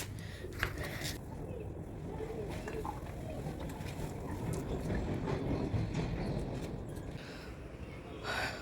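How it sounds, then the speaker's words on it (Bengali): A freight train passes near railway quarters with a low, steady rumble and faint rhythmic clatter. It sounds fairly distant and quiet, and a few birds call occasionally. "ওই দেখো ট্রেন এসছে ট্রেন দেখা যাচ্ছে ওই যে মাল ট্রেন"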